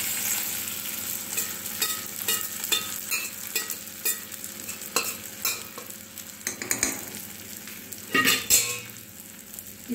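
Sabudana khichdi with fried peanuts and potatoes is stirred in a pan with little oil, giving a soft sizzle under repeated scraping strokes of a spoon, close up, with no talking.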